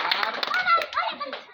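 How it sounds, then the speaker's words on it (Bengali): Claps from a gathering at a school sports event in Dhanbari, Tangail, Bangladesh, for the runner-up fourth-grade boys; scattered hand claps mixed under an adult voice and children's chatter, fading toward the end. "ওদের জন্য জোরে একটা করতালি"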